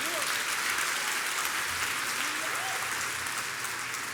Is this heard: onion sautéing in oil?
no